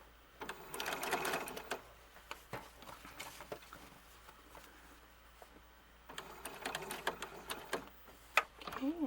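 A sewing machine stitches the seam of a doll's shirt collar in two bursts of rapid, steady mechanical whirring, separated by a quieter pause filled with small handling clicks and rustles.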